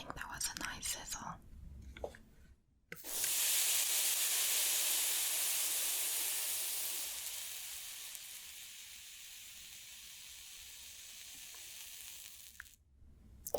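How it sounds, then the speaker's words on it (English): Water sprayed from a spray can onto an already heated surface gives a sudden loud hiss that sizzles steadily and slowly fades, with quiet whispering just before it and again at the end. "Let me just try if it sizzles."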